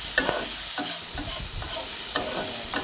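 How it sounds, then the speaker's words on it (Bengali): Food is stirred and fried in a pan, giving a continuous close sizzle with repeated scraping strokes of the spoon and a few sharp clinks on the metal. "দেন ভালোভাবে এভাবে নাড়াচাড়া করে ভেজে নেব"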